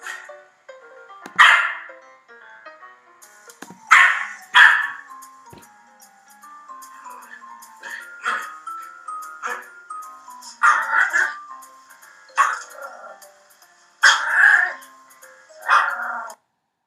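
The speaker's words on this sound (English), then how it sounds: "this dog incessantly barked 30 times in 5 seconds" A dog barks again and again in loud, separate bursts, one every second or so, with yips and clusters of barks close to the listener and nobody speaking.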